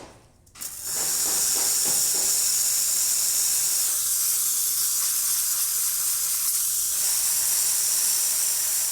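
A Lelit Bianca V3 espresso machine's steam wand hisses loudly and steadily after a brief sputter, a close, continuous rushing sound that fills nearly nine seconds without any talk.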